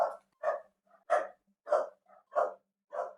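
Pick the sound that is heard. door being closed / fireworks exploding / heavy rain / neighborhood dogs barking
neighborhood dogs barking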